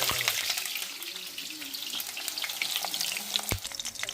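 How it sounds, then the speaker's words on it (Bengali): Gourd leaf bora fritters coated in gram flour batter fry in hot oil, giving a dense, continuous sizzle with crackling pops and a sharp splattering burst near the end. "বেসনের মধ্যে লাগিয়ে কিন্তু এটাকে কড়াই দিয়ে দেবেন গরম তেলে"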